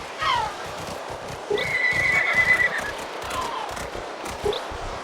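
A horse in the video game Horse Tales: Emerald Valley Stables gives a clear, loud whinny over a steady rhythm of hooves clopping, with softer neighs and snorts toward the end.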